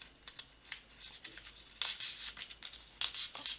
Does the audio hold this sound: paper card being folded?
yes